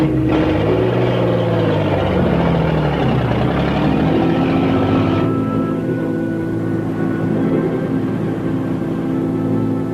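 A 1950s car pulling away, a steady low engine drone with rising pitch early on, then settling into a quieter hum as it moves off, no talk.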